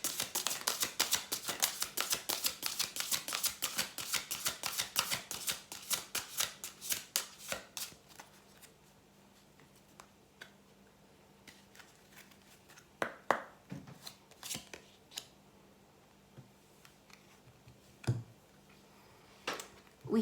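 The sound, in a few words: shuffling oracle cards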